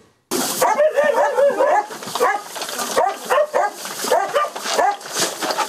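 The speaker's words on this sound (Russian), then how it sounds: "Так, щодня годують сотні собак та котів." Shelter dogs barking, yipping and whimpering while being fed, a dense, close chorus of overlapping barks from several dogs that starts abruptly and carries on without a break.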